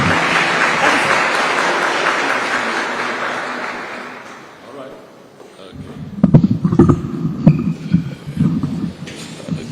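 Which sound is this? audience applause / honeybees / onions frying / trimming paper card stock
audience applause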